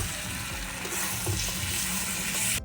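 Chicken and fried potatoes being sautéed in a pan over a clay stove for a chicken curry, a loud continuous sizzle with faint stirring knocks, close up and alone.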